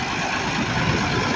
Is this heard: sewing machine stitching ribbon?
no